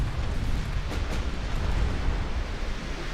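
Torpedo hits explode against a warship in the naval strategy game Ultimate Admiral: Dreadnoughts, a dense rumbling roar of blasts with a couple of sharper bursts near the start, sustained and heavy throughout.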